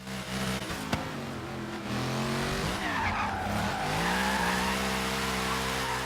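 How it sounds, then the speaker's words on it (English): Mercedes-AMG GT-S in Forza Horizon 3 sliding through an e-brake drift, its tires squealing in a long sustained screech over a steady engine drone, then the engine note climbing as the car grips and straightens out. "I can hit the e-brake and start a drift and keep it going, and then I come out of it and it hooks"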